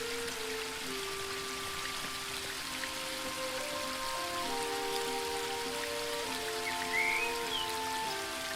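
Steady rushing wash of a waterfall in The Book of Unwritten Tales 2, a constant even hiss heard alone under faint tonal game music.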